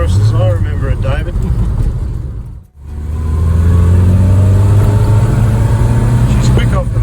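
A Morris engine drones loudly from inside the moving vehicle, briefly falling away as if between gears, then pulling strongly again into a steady, rising acceleration.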